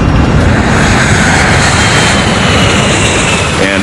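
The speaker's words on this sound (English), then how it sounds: "the airplane is accelerating rapidly enough" An airliner's jet engines roaring loud and close throughout as the plane accelerates down the runway on its takeoff roll, a dense steady rush with no break.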